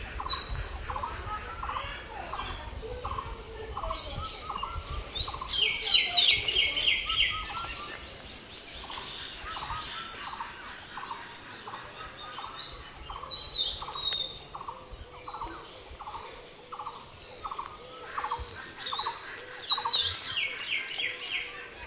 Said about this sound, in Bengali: এদিকে পাখি পাখি ডাকছে কত সুন্দর।